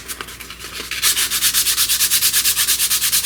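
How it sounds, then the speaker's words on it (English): Sandpaper rubbed back and forth along a wooden dowel for a 3D printed rigid heddle loom, a few tentative strokes then steady fast rasping strokes, close and loud. "you can always sand the dowel just a little bit as well."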